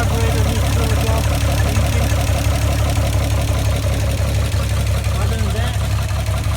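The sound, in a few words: 1960 GMC truck engine idling after first start since 1999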